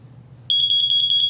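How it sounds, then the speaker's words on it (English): A carbon monoxide alarm sounds a rapid series of loud, shrill electronic beeps in a steady pulsing rhythm, starting abruptly after a moment of low room hum. "Carbon monoxide alarms are one of the most important things you can have in your house."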